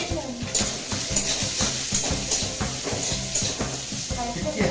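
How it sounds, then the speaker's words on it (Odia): Onion and capsicum fry on high flame in a pan, a steady close sizzle with repeated rhythmic stirring scrapes throughout. "ଟିକେ ହାଇ ଫ୍ଲେମ୍ ଦେଇକି ପିଆଜ ଆଉ କ୍ୟାପ୍ସିକମ୍ ଟା ଫ୍ରାଏ ହେବ"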